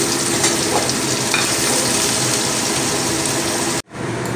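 Chopped medium onion frying in oil for a rui fish mustard-poppy curry, a loud dense hiss of sizzling that holds steady up close, with no voices, then cuts out abruptly before the end.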